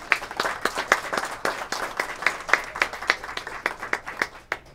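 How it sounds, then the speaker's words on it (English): Audience at the Crealde open house celebration applauding, a moderately sized crowd giving a round of clearly separate, rhythmic claps in a room, steady throughout with no talk. "Please give yourselves a well-deserved round of applause."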